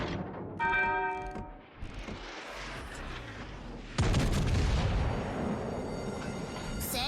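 Rear guns of a USS Constitution-class Tier 7 premium American battleship in World of Warships fire a heavy booming salvo, a deep loud blast that rumbles on after an earlier thinner burst.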